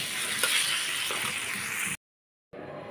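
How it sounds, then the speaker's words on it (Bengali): Vegetables frying and stirred in a pan for a Bengali home-cooked bhaji, giving a steady close hiss and sizzle with faint stirring clicks, cut off abruptly before resuming briefly. "এই যে সবজিটা দিয়ে দিতেছি, এটা এতটুকু আমি দিয়ে একটু নাড়াচাড়া দিয়ে নিয়ে পুড়ে দেবো।"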